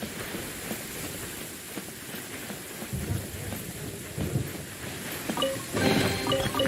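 Video game thunderstorm with steady rain hiss and several deep thunder rumbles, the loudest roll arriving near the end.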